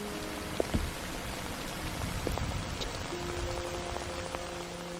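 Steady rain patters on surfaces, an even hiss with scattered individual drops, moderately quiet and continuous throughout.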